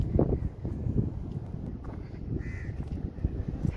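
A crow caws once or twice in an open outdoor spot in Dubai on a hot afternoon, a short mid-pitched call standing out over steady wind rumble and background noise.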